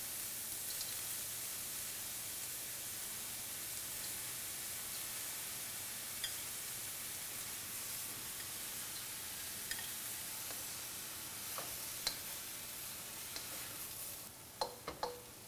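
Rice tossed and stir-fried in a hot pan with peas for pineapple fried rice, a steady soft sizzle running throughout with a few faint scrapes and clicks near the end.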